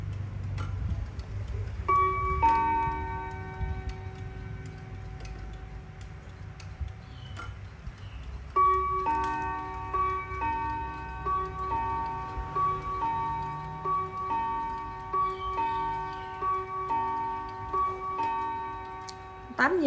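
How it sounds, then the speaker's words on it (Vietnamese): Antique European wall clock with a two-melody chime mechanism striking eight o'clock: ringing chime notes in bursts with lingering tones and soft ticking between, close and clear in a quiet room. "Tám giờ thì đồng hồ bính bông 8 lần"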